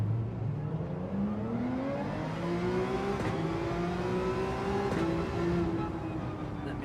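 A Porsche engine in Gran Turismo 7 hums steadily as the car drives, its pitch slowly rising through the gears with brief shifts, loud and continuous with no talk.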